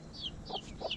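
A mother hen clucks softly twice while her chicks peep in high, thin chirps, close by and in quick alternation during a brief outdoor moment.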